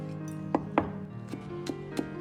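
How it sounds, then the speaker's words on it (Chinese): Two small chilli peppers are sliced into rings with a kitchen knife, giving five or six sharp, separate taps on a cutting board at an uneven pace, close and fairly quiet. "小米辣2个，清洗干净，顶刀切成圈，增加辣味和搭配颜色"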